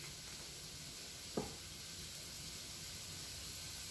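Italian sausage and a small onion frying in a pan, a steady low sizzle running throughout, with one brief clack of a utensil near the middle.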